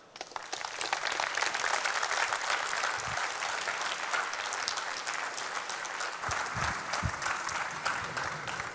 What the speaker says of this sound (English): One more round of applause for Dirk, please.